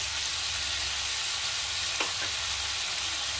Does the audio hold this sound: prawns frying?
yes